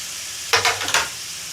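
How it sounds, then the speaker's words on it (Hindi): A kilogram of sliced onions frying in a pan for a beef paya dish gives a few quick, loud bursts of stirring and sizzling in the middle of an otherwise quiet moment. "मैं प्याज को फ्राई कर लूँगा।"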